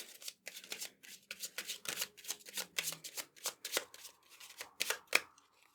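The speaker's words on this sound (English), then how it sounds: "Shuffle Lenormand." Lenormand cards being shuffled by hand for a pick-a-card reading, a steady run of crisp riffling bursts, close and fairly loud, with no talking.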